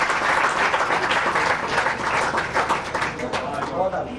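Dense, steady audience applause fills a televised Eid mushaira poetry show, loud and continuous throughout with a crowd murmur mixed in.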